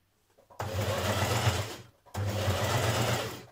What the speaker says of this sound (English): We're going to sew close to that seam